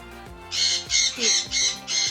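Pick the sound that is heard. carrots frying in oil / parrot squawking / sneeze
parrot squawking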